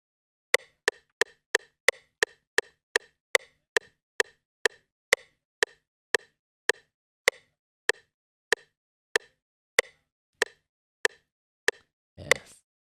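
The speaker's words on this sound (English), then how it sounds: "And now I'm going to reduce, watch what happens, and listen to the metronome." Metronome in FL Studio ticking at a reduced tempo: sharp, evenly spaced clicks that are loud and close, with the gaps between them widening as the pace slows, and one brief scrape near the end.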